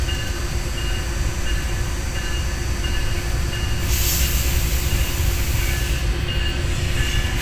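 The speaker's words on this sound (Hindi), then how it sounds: "बहुत ही खूबसूरत अंदाज में Jafar express मुख्ताराबाद Domki railway station को इंटर हो रही है।" The Jaffar Express passenger train of Pakistan Railways, heard from the locomotive, pulls into Mukhtarabad Domki railway station with a loud, continuous rumble, rattle and hiss that stays steady throughout.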